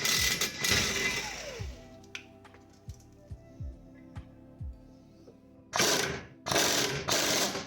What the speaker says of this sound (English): if you unbolt that bracket for the e-brake cable